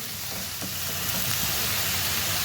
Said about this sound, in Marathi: त्याच्यावर कांदा टाकला आहे. आता तो थोडा परतून घ्यायचा, थोडा नरम झाला पाहिजे.